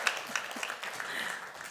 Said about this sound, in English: I'd like you to give a round of applause to the panelists and to yourselves.